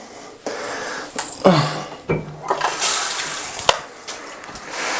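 Shower water spraying over houseplants, a continuous rushing spray that swells and dips with the occasional knock and splash, close and fairly loud.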